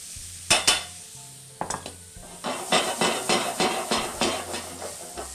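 A pat of butter and sliced apples hitting a hot pan over medium-high heat, a few sharp clatters of utensils followed by rhythmic stirring scrapes over a bubbling sizzle.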